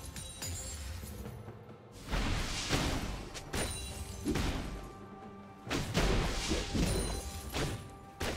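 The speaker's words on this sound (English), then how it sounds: "Red team's turret has been destroyed." A League of Legends turret is destroyed in a series of loud crashing, shattering impacts with heavy thuds, several bursts arriving a second or so apart over steady game background sound.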